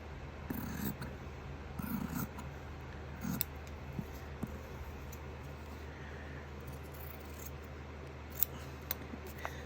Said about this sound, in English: We'll just do a rough cut, and then I'll do a fast video of cutting out the rest.